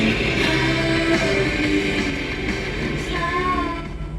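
A 1967 Chevrolet Camaro convertible idles at a steady, even rumble, close and fairly loud, holding a constant tone for several seconds with no voices over it.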